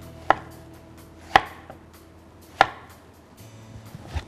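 Three sharp, heavy knife chops through chicken on a cutting board, spaced about a second apart, with a quiet shuffle afterward.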